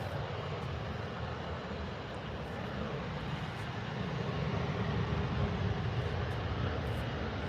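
EasyJet airliner engines roar at Manchester Airport as a steady, broad, loud rumble that swells slightly toward the end, heard from a distance with no talk.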